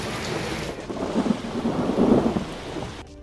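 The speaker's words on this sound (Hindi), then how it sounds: "मुल्क भर में एक बार फिर बादल बरस पड़े।" Heavy monsoon downpour with a deep rolling rumble of thunder that swells in the middle, steady rain hiss throughout before cutting off abruptly near the end.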